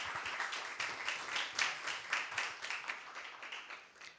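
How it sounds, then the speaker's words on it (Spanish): A room at a civic participation conference in Nuevo León applauds, with a moderate, loosely rhythmic patter of hands that pulses and then tapers off. "Un aplauso, por favor."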